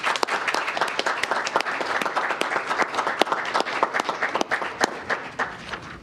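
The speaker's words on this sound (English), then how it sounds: "Let's give them a round of applause" Sustained applause from an audience at a utility district board of directors meeting, many hands clapping densely and steadily for about six seconds with sharp individual claps standing out, no talking over it.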